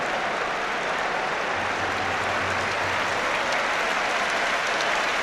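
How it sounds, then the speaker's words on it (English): A stadium crowd at a Premier League football match between Arsenal and Everton applauds loudly and continuously, a dense sustained wash of clapping that fills the whole stretch. "Huge applause as well for Kolo Touré"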